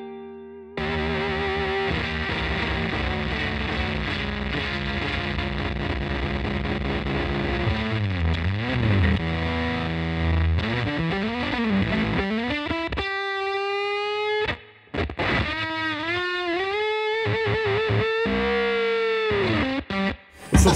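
Electric guitar played through a DOD Carcosa fuzz pedal, loud, thick and heavily distorted, with chords giving way to gliding, bending single notes that sputter and break up, a brief dropout near the end.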